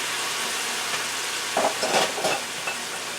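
Water added to a hot pan of broccoli and carrots sizzles and steams, a steady hiss with a few louder bursts of crackling near the end.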